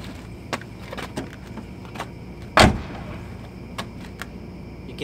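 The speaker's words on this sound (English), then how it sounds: "You can hear echo, like every time I like close the door." A single sharp car door slam rings out midway, with a short echoing tail, amid quiet background noise and a few faint knocks.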